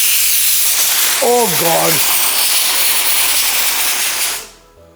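A pressure cooker releases its steam in a loud, steady hiss that runs for about four seconds and then cuts off abruptly, with a brief voice exclaiming over it.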